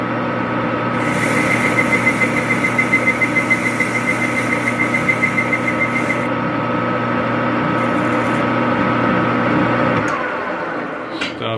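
A lathe takes a continuous cut on a wheel casting for a riding car, a loud steady machine hum with a rhythmic whine and tool chatter, winding down near the end.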